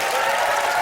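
Quiz show studio audience applause, a dense, loud, continuous wash of clapping in a brief burst.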